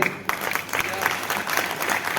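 An audience claps loudly and steadily at a gathering, dense applause filling the room close by from start to end, with a voice speaking over it.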